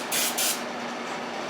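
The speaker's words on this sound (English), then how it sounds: "Spray it on some of these connectors." Two short hissing bursts of electronics cleaner aerosol sprayed on stuck connectors of a 1969 Yamaha Trailmaster 100 YL2, close by, followed by a fainter third spritz at the end over a quiet background hum.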